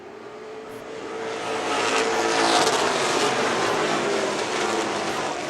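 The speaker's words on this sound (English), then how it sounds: "Then comes Nick Reno, but he's got company in the number 1X of D'Souza" Pro stock race cars roaring past on an oval track, a loud, dense engine wash that swells as the pack nears and holds at full volume, with no talking.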